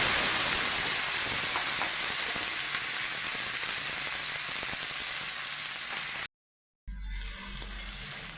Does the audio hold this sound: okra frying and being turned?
yes